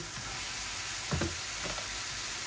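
Thinly sliced mushrooms from a single pack hit a hot frying pan, giving a steady close sizzle with a brief louder burst of crackling as they land, then settling back into an even frying hiss.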